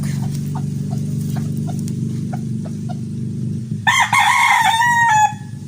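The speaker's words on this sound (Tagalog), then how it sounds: "may manok." A rooster crows loudly nearby, its long call cutting over a steady low engine-like drone and scattered faint clicks.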